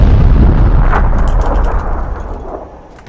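Grenade explosion in the PUBG battle royale game, a loud, close, deep blast with a rumbling tail that slowly fades over a few seconds, with no talk over it.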